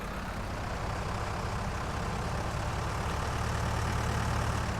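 A Huerlimann tractor engine in Farming Simulator 19 idles continuously with a constant low rumbling hum, close and unchanging throughout.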